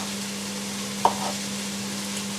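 Garlic sizzling in a hot pan while being stirred for beef bourguignon, a steady frying hiss with one clear scrape of the utensil, close and without talking.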